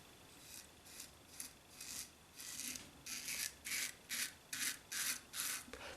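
Figaro double-edge razor shaving over Musgo Real Spiced Citrus soap lather, a faint, tinny rasping scrape repeated in short strokes that grow more regular and slightly louder, close up with no talking.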